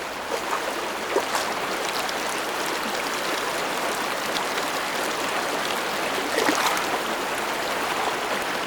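Icy Ganges headwaters rush through the Himalayas in a steady, close, hissing stream roar that runs continuously with small splashes and no voices.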